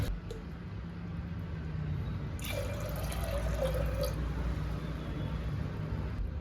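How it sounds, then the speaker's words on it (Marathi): Water is poured from a glass into a pressure cooker holding dal (lentils), a steady gurgling splash lasting under two seconds over a constant low background hum, with no talking. "आता ह्याच्यामध्ये आपण दोन ग्लास पाणी टाकणार आहोत डाळ शिजण्यासाठी"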